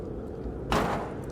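A door slams in The Cabin Factory, a horror video game, with one loud broadband thud partway through over steady low background rumble.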